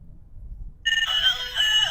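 A child's toy mobile phone plays an electronic ringtone, a bright warbling tune that starts abruptly after a moment of near-quiet and carries on loud and close to the end.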